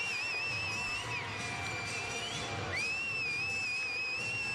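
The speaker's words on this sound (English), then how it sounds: "Bro, who's doing this annoying ass fucking whistling?" Someone whistles a sustained, wavering high tune, steady and fairly prominent over a faint crowd murmur, pausing briefly before picking up again.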